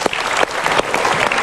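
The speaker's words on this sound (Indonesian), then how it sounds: "Kita berikan sekali lagi tepuk tangan." An audience applauds at a Mario Teguh Golden Way talk show, a dense, steady clapping from a crowd that fills the whole moment at a fairly loud level.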